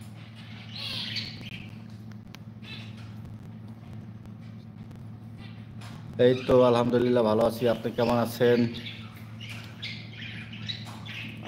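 Pet birds squawk and chirp intermittently on a small bird farm, moderately near, over a steady low hum, while a person talks in the middle.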